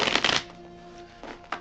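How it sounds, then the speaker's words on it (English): Tarot cards are shuffled in quick riffling bursts at close range, a dense flutter at the start, a quiet pause, then two shorter shuffles toward the end. "I like to shuffle while I'm recording"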